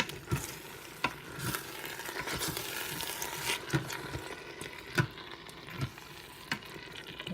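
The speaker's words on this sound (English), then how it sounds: "And I'm going to mix that all in." Tomato puree being stirred into a pot of kapusta soup, a steady spoon scraping and sloshing with regular clinks against the pot and a soft simmering sizzle underneath, close and alone.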